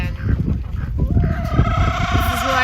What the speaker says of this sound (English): this is why our chickens are so fat and still laying eggs in the winter